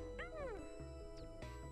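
A high, cartoonish Pikmin creature meow from the game Hey Pikmin sweeps downward, followed by brief chirps and plinks over a steady musical background.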